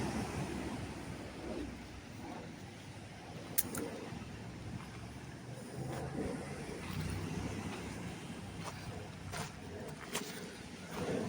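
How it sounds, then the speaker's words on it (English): Ocean waves washing onto a sandy beach on the Aberdeenshire coast in Scotland, a steady broad roar of surf with wind buffeting the microphone and a few faint clicks. "found it, beautiful sandy beach"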